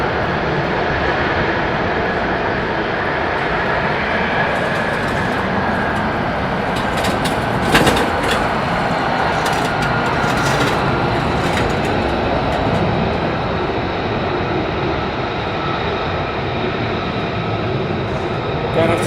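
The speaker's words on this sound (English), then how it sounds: "Some more F-35 actions" An F-35 fighter jet at RAF Lakenheath makes a loud, broad, continuous roar that holds steady for the whole stretch, with faint rattles and crackles near the middle.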